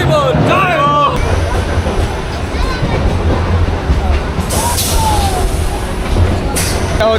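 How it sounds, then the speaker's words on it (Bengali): A train pulling into a packed station during the Thakurnagar Matua Baruni Mela, a steady loud rumble and rail noise with dense crowd babble and voices throughout, and a couple of brief high squeals. "এই যে এখন ঢুকলো ট্রেনটা। কেমন ভিড় দেখো"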